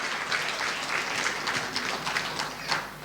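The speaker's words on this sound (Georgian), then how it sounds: "ნუქშურთ ტაში დაუკარით ეკუთვნით ამ ახალგაზრდებს" Steady applause from an audience for young performers at a concert celebrating a composer's centenary, a continuous wash of clapping heard alone for the whole stretch.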